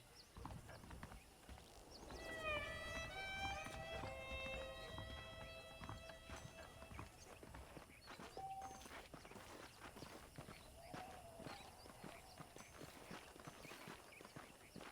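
Rhythmic hoof clip-clop of horses walking in Red Dead Redemption, moderately close, with a whinny-like tonal call and background music or ambience layered over it.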